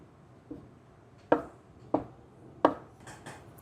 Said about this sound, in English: then we're going to cut 1/2 inch pieces